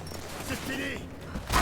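Gunfire in the video game Rise of the Tomb Raider, a burst of shots and game effects under someone talking over the action, with a louder blast at the end.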